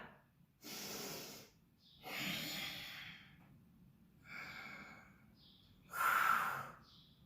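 Deep, heavy breathing during a weightlifting set, heard as four or five loud, breathy exhales and inhales in an uneven rhythm, each lasting about a second, with near-silent pauses between them.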